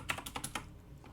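Quick, light keystrokes on a computer keyboard, five or six soft clicks in about a second, close and quiet with no voices.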